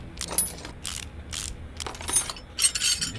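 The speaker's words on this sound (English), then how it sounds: "So we're going to go ahead and pull this caliper off." Brake caliper removal in the game Car Mechanic Simulator 2018 comes through as short bursts of rapid ratcheting clicks, several separate runs in quick succession, crisp and close with small metallic clinks between.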